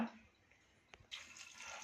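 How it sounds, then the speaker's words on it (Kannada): Water poured from a vessel into a pressure cooker holding washed black-eyed peas, a steady splashing pour that starts partway through after a brief clink, close and fairly quiet. "ಒಂದು ಸ್ವಲ್ಪ ನೀರು ಹಾಕಿ ಮಣ್ಗಷ್ಟು ನೀರು ಹಾಕಿ"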